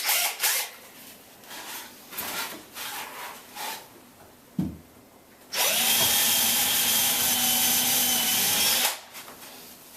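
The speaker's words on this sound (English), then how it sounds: "And I'll drill up to the bottom of my support." A power drill bores up into the wooden support of a raised basement sauna platform, a loud steady whine lasting several seconds after some scraping and handling noises.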